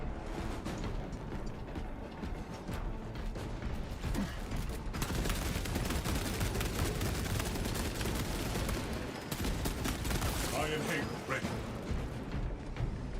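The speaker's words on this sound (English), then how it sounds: "Actually, just fire this gun forever." Rapid, continuous weapon fire from Space Marine 2 pours out loud and dense with little pause, a mechanical chatter running under a steady wash of game noise.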